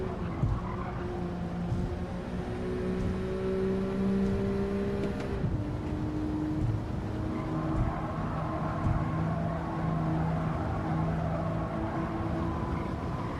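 Race car in a racing video game, a steady loud engine drone holding pitch with a sudden shift partway through, joined by other cars' engines, continuous and close with no talking.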